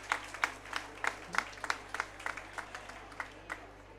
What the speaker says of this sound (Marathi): त्यांच्यासाठी एकदा जोरदार टाळ्या आपण होऊन जाऊ द्या